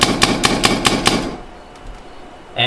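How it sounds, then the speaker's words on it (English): Spyder paintball marker fired into a rag held against the barrel front: five sharp, evenly spaced pops in quick succession, loud and close, followed by quiet hiss and a final clack. "I'm going to take a couple shots to get that oil cycled."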